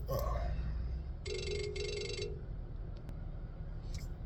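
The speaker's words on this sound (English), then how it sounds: "Had a phone call come through." A telephone rings with two short electronic trill bursts in quick succession, faint and somewhat distant against a steady background hiss, followed by a few small clicks.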